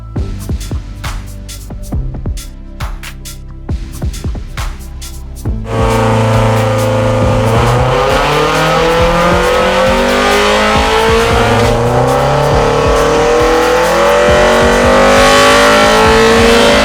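Mazda Miata engine on a dyno: a few idle blips and revs, then a sustained loud run with rising, sweeping engine pitch through the gears, close and continuous.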